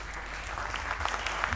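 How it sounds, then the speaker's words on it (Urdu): An audience claps at an evening mushaira poetry gathering in Dubai, steady dense applause from a fairly distant crowd, with no voices over it. "طارق سبزواری صاحب کو آپ کی تالیاں آواز دیں, پرزور تالیاں آواز دیں"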